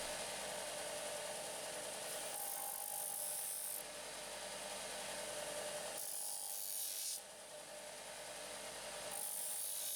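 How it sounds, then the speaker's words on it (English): A sander fitted with an 80 grit pad runs steadily in a home shed workshop, grinding burrs off a metal part with a slight bevel; a continuous loud whirring rasp with periodic swells as the piece is pressed and eased, no talk. "I'm just going to go over to the sander and sand those burrs off with just a little bit of a bevel"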